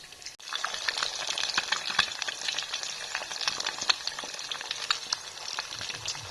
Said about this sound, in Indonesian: Mau goreng telur juga ya, 2 aja.